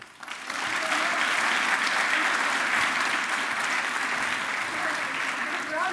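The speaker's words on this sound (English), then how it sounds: "Applause indeed for Alderman Kapteins." Steady, sustained applause from an audience at a Hague Talks evening event on just climate action, in honor of Alderman Kapteins; it rises quickly after a brief quieter start and stays dense and even throughout.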